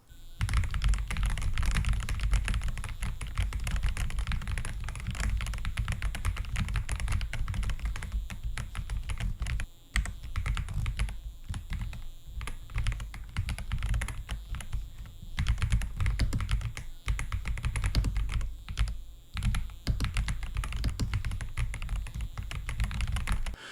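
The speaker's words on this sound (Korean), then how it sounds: "간단히 타건음을 들어보시죠" Continuous clicky typing on a Machenike K600G-B97W 97-key mechanical keyboard, rapid, fairly quiet keystrokes clattering close up with a few brief pauses.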